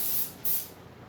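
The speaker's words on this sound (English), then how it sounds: "now I'm hitting the fabric with some spray adhesive" Contact cement spray adhesive hisses from a can onto fabric in a workshop, a steady close airy spray broken by a short pause, then a second burst that trails off.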